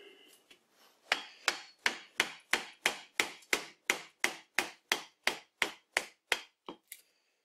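A chisel chops into a large wooden log, giving about sixteen sharp, evenly spaced strikes at a roughly steady rhythm, close and fairly quiet, with no talking.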